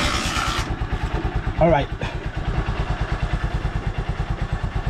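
A Honda Supremo motorcycle engine catches on start without choke or push starter, then settles into a steady, rhythmic idle, loud and close, with a brief spoken word near the start.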